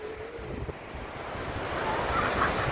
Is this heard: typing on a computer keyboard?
no